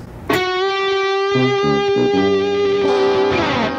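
An overdriven electric guitar strikes a note, bends it upward and holds it with wavering vibrato while lower notes ring beneath.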